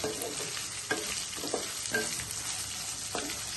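Spices sizzling and frying in a pan for a banana and mango curry, a steady crackle with several louder stirring scrapes, close and without talk.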